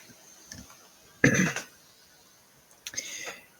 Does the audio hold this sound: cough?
yes